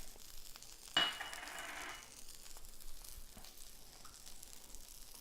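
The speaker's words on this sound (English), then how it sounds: "I'm gonna add just about a teaspoon of butter to the skillet" Butter sizzling as it hits a cast iron skillet while salmon is cooked, a sudden brief hiss that flares for about a second, then fades to a quiet background.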